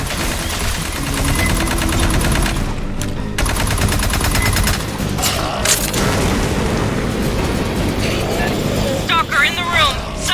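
Rapid gunfire in Aliens: Fireteam Elite as shots hit capacitors, sustained loud automatic bursts mixed with booms and heavy game ambience, with a brief voice call near the end.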